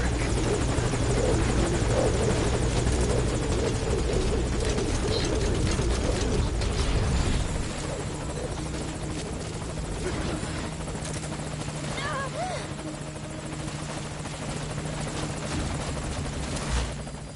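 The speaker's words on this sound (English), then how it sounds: "Target on the chopper." A helicopter in the video game Metal Gear Solid Ground Zeroes roars close by with a heavy rotor throb, then drops to a lower, steadier drone midway, while voices talk over it.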